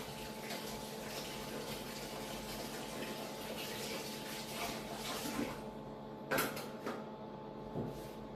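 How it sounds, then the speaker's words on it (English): Washing up in a kitchen sink with running tap water, a steady background hiss of water with creaks and a few sharp clinks of dishes toward the end, no talking. "Just washing up in the background here"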